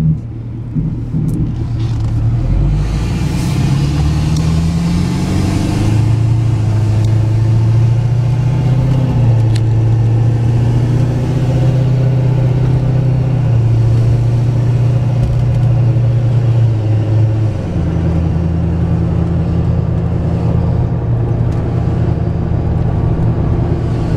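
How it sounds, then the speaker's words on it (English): A four-wheel-drive truck drives down the road, its engine rumbling steadily from inside the cab as the pitch climbs and drops through several gear shifts. "You can see the truck drives down the road, shifts as it should."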